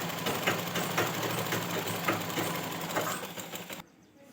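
A sewing machine stitches along a double-folded fabric strip for a blouse drawstring with a steady, rhythmic whirring hum. The motor then stops abruptly, leaving near silence.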